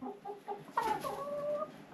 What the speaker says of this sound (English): Cock is finding food, and he is giving best food to chickens